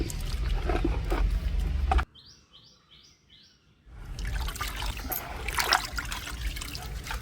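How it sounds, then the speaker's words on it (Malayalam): Water-soaked tobacco and bar soap are squeezed by hand, giving wet trickling and dribbling in two stretches separated by a quiet pause where faint birdsong chirps. "വെള്ളത്തിൽ കുതിർത്ത് വെച്ചിരിക്കുന്ന ബാർ സോപ്പും അതുപോലെ പുകയിലയും നല്ലതുപോലെ പിഴിഞ്ഞെടുക്കണം"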